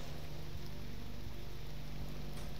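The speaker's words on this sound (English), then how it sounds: "It's a pretty good atmosphere with the rain and everything." Rain falls steadily in the Witchhouse map of a Doom game running the Hideous Destructor mod, a soft, continuous hiss of drops that stays constant and fairly quiet as an ambient backdrop.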